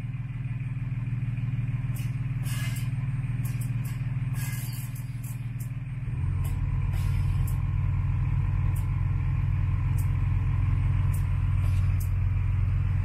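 An Airlift 3P air suspension compressor on a G35 with a G37 front end kicks on partway through, adding a steady motorized drone over the low hum, with scattered clicks and faint talk.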